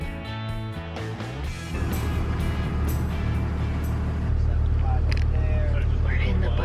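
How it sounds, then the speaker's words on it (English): A bus engine idles with a steady low rumble heard from inside the bus, an engine that had been stalling within minutes, running on under voices that talk at the start. "We're in the bus. Do you hear the idle? It's idling."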